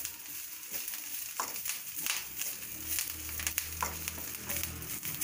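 Curry leaves and coriander are sautéed in a pan, giving a steady soft sizzle and crackle with a few brief scraping stirs, heard close and fairly quiet throughout.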